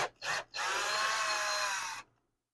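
A power driver backs out the trim screws on a 2002 Holiday Rambler RV refrigerator: two short whirring bursts, then one steady buzzing run of about a second and a half that cuts off into silence. The sound is close and clear, with no talking.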